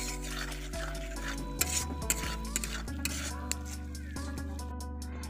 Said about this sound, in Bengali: লবণ দিয়ে মশলাটাকে কষাবো একটু।